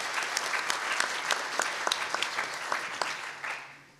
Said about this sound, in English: let's give all our friends from outside of our area a big round of applause.